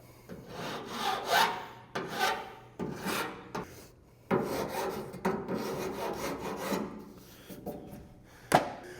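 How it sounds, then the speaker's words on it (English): A metal hand file rasps across a car fender corner cap in a run of separate, uneven strokes, close and fairly quiet, with short pauses between them. "use a file instead of 5 seconds with a flapper wheel"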